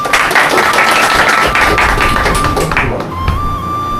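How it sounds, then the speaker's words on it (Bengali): A farewell gathering breaks into loud, close clapping from many hands, dense and continuous before easing off in the final second. "তো সবার জন্য একটা জোরে হাততালি।"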